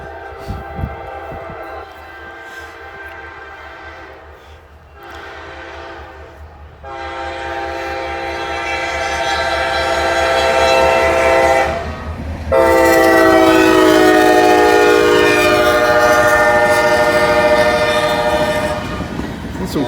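A southbound local freight train rumbles past with loud horn blasts, the roar building steadily and staying heavy and close as the cars roll by, echoing off a nearby building.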